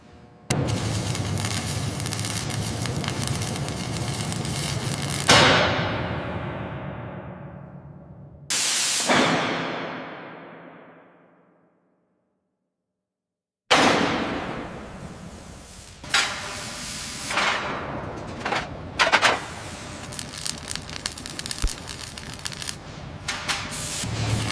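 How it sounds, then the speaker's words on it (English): Heavy hissing, crackling bursts of a stabilization weld on a loose coupling of a giant mech robot in a factory, loud and close, cutting out briefly twice before resuming with sharp sputters. "Applying stabilization weld now."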